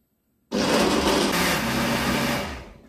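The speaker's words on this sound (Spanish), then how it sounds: "vamos a batir el tomate en la batidora." A kitchen blender purées halved tomatoes for gazpacho, starting abruptly after a short silence and running as a loud, steady whirring roar close by.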